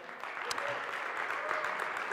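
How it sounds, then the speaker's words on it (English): A crowd claps steadily at a conference talk, a dense patter of many hands applauding at moderate distance throughout. "can everyone give them a round of applause?"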